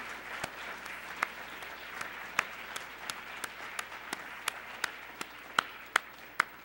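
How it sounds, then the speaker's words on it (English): Audience applause at a forum, a steady wash of clapping with sharper individual claps popping out at intervals, moderately distant and soft. "let's recognize them with a round of applause,"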